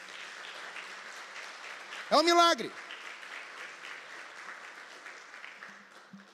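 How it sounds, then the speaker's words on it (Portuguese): A church congregation applauds during a Portuguese-language sermon, sustained even clapping from a crowd while a preacher's voice briefly rises over it. "Eu vou te dar uma oportunidade, pode aplaudir Jesus pela sua vida."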